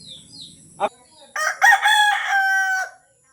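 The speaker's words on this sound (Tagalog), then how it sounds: "Tumiraok ang manok!" A rooster crows once, loud and close, in a long rising and falling call after a few faint sounds and a brief sharp noise.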